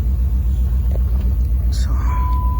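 A 2006 Dodge Charger R/T with a coil pack boot problem runs with a steady, loud low engine rumble. A brief higher tone briefly rises above it near the end.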